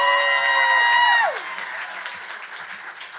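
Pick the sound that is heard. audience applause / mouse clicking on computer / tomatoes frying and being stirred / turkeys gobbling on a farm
audience applause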